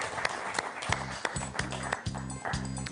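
A French quiz show studio audience claps for a contestant in steady rhythmic unison, the beats clear and even over a soft background.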